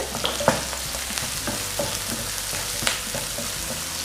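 Two small chopped onions fry in hot oil for a mushroom masala, a dense close sizzle with scattered stirring scrapes and clicks across a few seconds, no talking.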